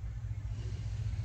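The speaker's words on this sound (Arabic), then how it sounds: "الموتور ديالو مزوين اصلا، ما تياكلش" A 2008 Mercedes-Benz C320 engine idles in a steady, low, deep rumble, heard close and alone for a brief moment.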